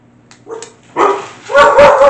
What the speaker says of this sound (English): my dog is gonna go bananas